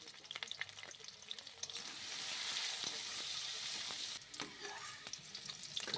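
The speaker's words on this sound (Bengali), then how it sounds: "আলুগুলো এবার ভেজে নেব। সামান্য হলুদ গুঁড়ো দিয়ে লাল লাল করে ভেজে নেব।" Halved potatoes fry in mustard oil with a pinch of turmeric, giving a soft, steady sizzle with scattered crackles and pops throughout.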